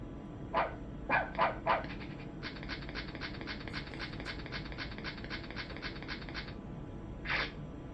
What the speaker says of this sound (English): let's put that dog away